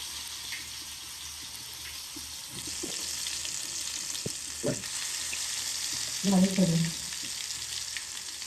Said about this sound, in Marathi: तेल तापलेलं आहे आपला. आता आपण पीस टाकून घेऊया.